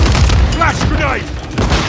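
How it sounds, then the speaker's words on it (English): A flash grenade goes off in a Call of Duty match: a loud boom with gunfire around it, and game voices calling out over the blast. "Flash grenade."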